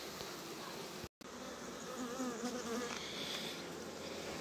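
Honeybees buzz steadily at a beehive, a dense, continuous drone close by, broken only by a brief dropout near the start.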